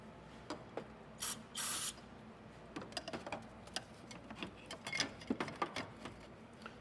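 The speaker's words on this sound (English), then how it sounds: "We're going to use the CRC throttle body air intake cleaner." Two short hissing bursts of CRC throttle body air intake cleaner spray from an aerosol can at an Infiniti QX80 throttle body, followed by scattered light clicks and taps of work nearby.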